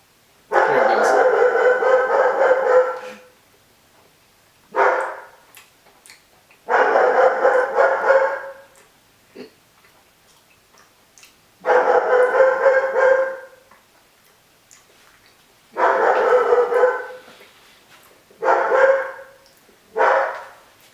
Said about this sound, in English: So the dog's barking.